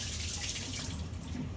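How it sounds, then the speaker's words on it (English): Water running and splashing as it drains off cubed potatoes in a kitchen sink, a steady faint rush with no talking. "I'm going to drain out the water"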